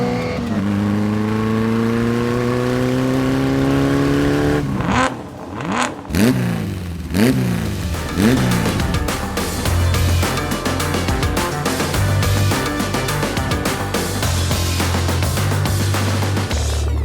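A classic car engine at the Classic Motor Hub in Bibury, Gloucestershire, idles with a steady low hum, then climbs through loud rising revs and roars in repeated blips of the throttle, heard up close with no talking.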